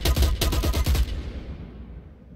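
An automatic weapon fires a rapid burst of about eight shots at targets in the shooter game Dirty Bomb, loud and close, then the sound decays into a fading echo.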